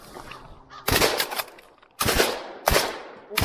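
Several loud, sharp gunshots ring out outdoors at irregular intervals during a crow hunt on a farm, each followed by a short echoing decay, with faint birds in the background.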